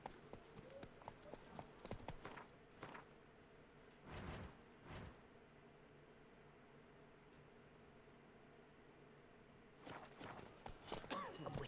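Hooves of Geralt's horse Roach from The Witcher 3 clip-clop along at a steady walking rhythm, fairly near, with louder clattering bursts at a few points over a quiet ambient bed.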